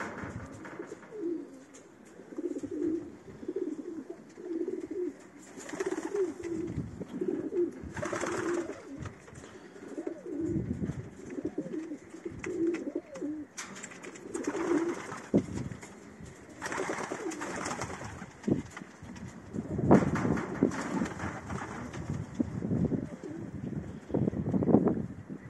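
Pigeons or doves coo repeatedly in an aviary where breeding birds feed their young, a steady layered murmur of soft calls close by with occasional light wind noise.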